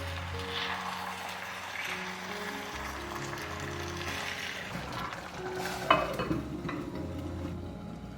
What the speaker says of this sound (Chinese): 砂锅可以提前加热，调中火焖3到5分钟。